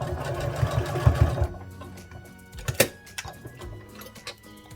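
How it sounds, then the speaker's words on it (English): A sewing machine stitches fabric bear pieces and back-stitches, running in a loud, fast mechanical whir up close before stopping, followed by quieter handling noises and faint clicks. "I'm going to sew right up to the square and back stitch."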